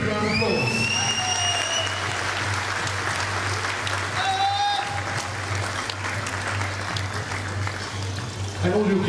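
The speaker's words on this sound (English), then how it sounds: "Give them a big round of applause." Wedding guests give a bridal couple a big, sustained round of applause at the reception, with dense clapping, a steady low hum underneath and scattered voices and whistles through the crowd.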